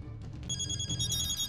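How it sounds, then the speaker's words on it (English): Several mobile phones ring at once in an anime scene, bright electronic ringtone tones stacking up within a second over a low background hum, with no talk. "Why is everybody's phone going off?"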